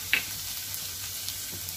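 Crushed garlic and ginger sizzling gently in plenty of hot oil over a low flame, a steady soft hiss with one small pop near the start, close and fairly quiet.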